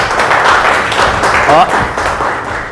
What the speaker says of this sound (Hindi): एक बार फिर चाहेंगे सर के लिए ताली हो जाए।